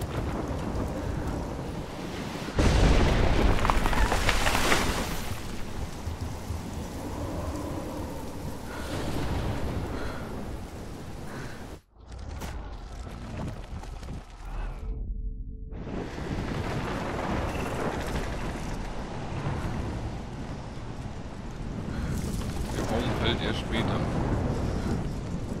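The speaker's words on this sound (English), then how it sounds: "I've never seen a storm like this in Oregon." A heavy thunderstorm in the video game Life is Strange, set in Oregon, with steady loud rain and rolling thunder rumbles throughout, a sharp crack near the middle, and speech mixed in.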